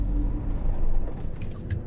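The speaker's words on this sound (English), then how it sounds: "and the car stalls." A manual transmission car stalls after braking to a stop without the clutch pressed: a close, loud low engine rumble shudders briefly and dies away, with no voices.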